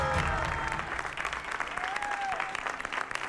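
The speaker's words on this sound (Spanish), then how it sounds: "Fuerte el aplauso." Dense audience applause fills a studio game show set as a winning team is celebrated, steady and loud throughout, with a faint voice or tone rising briefly in the middle.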